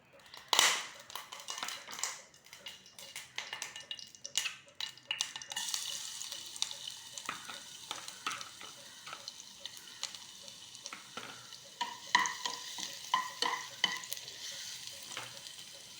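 Koorka (Chinese potato) fries in hot oil while being stirred, a scraping clatter of utensil against pan over continuous sizzling, with clusters of louder stirring strokes.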